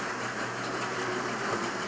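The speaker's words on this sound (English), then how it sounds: "His wheels are slipping like crazy there as he tries to pull the train away because it's heavy for him." OO gauge model train straining to pull heavy wagons, its wheels slipping, giving a steady whirring motor hum and faint rail rumble that stays even throughout.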